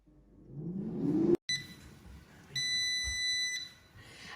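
An air fryer signals the end of cooking with a single steady electronic beep about a second long, fairly quiet and close, after a brief soft rush of noise.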